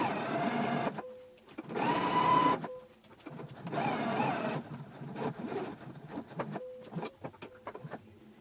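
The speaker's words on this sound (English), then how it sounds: "we can take this to the machine and we can edge stitch all the way around this long edge here" A domestic sewing machine edge stitching a fabric pocket runs in several bursts of steady whirring, pausing briefly between runs, then ends in short stop-start taps; close and fairly loud with no talk.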